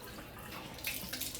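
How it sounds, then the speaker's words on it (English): Cold water splashes while a face is washed at a sink in the morning, a soft, close patter of running and splashing water with a couple of brighter splashes near the end. "There's nothing like some cold water on your face to wake you right up."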